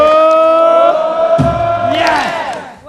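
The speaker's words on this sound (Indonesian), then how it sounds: "tepuk tangan, kasih suara" A studio audience at a televised marketing seminar show cheers and whoops loudly in a short burst, with a voice speaking over the crowd noise.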